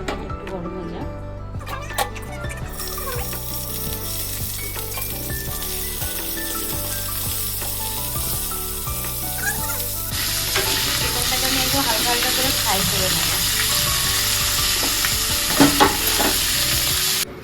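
Chicken frying in a little hot oil with a bay leaf for masala pora chicken, a continuous sizzle that swells louder partway through, with stirring scrapes and background music.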